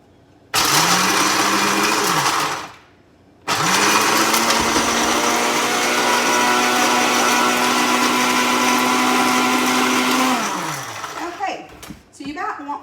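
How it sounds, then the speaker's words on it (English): Food processor chopping pecans for a keto cheesecake crust, two loud motor bursts with a steady high whir, the first about two seconds and the second about seven, then rattling and clatter as it winds down. "give me just a second while I chop up my pecans"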